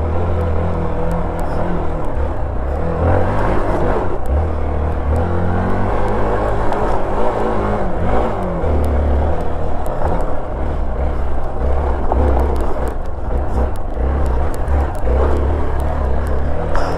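An off-road vehicle grinds up a dirt trail in first gear, the engine droning steadily loud and close with rising and falling strain throughout.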